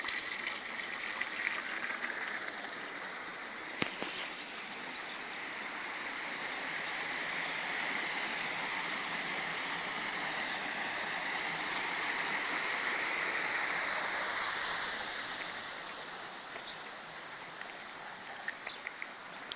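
Water pours steadily from a village spring spout in Kalotaszentkirály, a continuous close splashing gush that swells slightly midway, with no voices over it.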